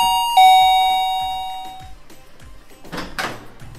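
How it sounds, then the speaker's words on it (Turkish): A front doorbell gives a bright two-tone chime that rings out and decays slowly, followed by a short rustle or knock-like sound near the end. "Kapı çalıyor"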